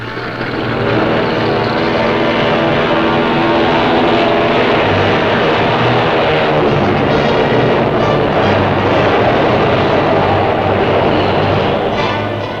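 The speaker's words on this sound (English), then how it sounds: "While airplanes drone their way into the skies." Propeller warplanes drone overhead during a wartime naval battle in the Pacific, a loud, continuous engine roar with steady throbbing tones that stays constant and close for the whole stretch.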